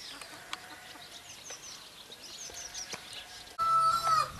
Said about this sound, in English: These birds here are called bluebells. They're a Moran Rhode Island Red hybrid